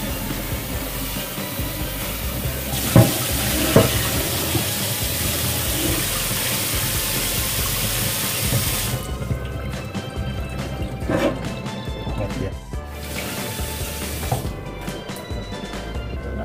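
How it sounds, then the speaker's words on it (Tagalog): Water streams from a tap while pork ribs are rinsed, a close, continuous gushing and splashing with brief clatters and short drops in flow. "Basa natin yung karne mga kabusing para matanggal tong lumulutang na maputi."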